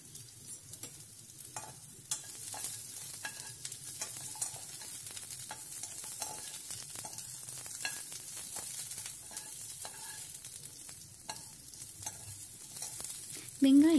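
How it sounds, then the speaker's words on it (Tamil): Chopped onions sauté in oil in a kadai for a mint tomato chutney. A quiet, steady sizzle runs under frequent scraping taps of stirring. "நறுக்கி வச்ச வெங்காயத்தை சேர்த்து வதக்கணும்."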